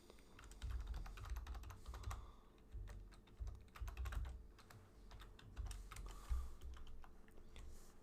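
Keys clatter on a computer keyboard during data entry in MS Excel, quick irregular bursts of close, faint typing with short pauses between strokes.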